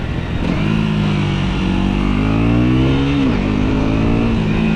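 A 2025 KTM Duke 125 motorcycle engine, close and loud, climbing smoothly through a sustained rev, then dipping abruptly and settling into a steady higher idle.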